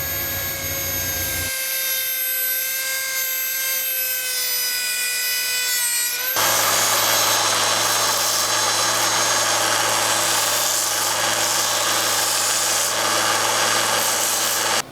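A hand saw cuts through a plastic toilet bowl cap in steady, harsh back-and-forth strokes, loud and close throughout.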